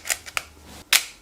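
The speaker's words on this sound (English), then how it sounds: "So this is a Leica M3." Leica M3 rangefinder camera shutter firing with a double stroke, sharp mechanical clicks close to the mic followed by a louder final snap, in a quiet room.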